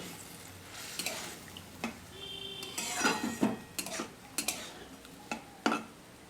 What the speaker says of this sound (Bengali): আমের সঙ্গে টমেটোটাও ভালো করে একটু কষিয়ে নেবো, কাঁচা গন্ধটা যাওয়া পর্যন্ত